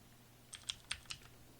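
Four light taps on a computer keyboard in a short burst, close and quiet over a faint steady hum, with no voices.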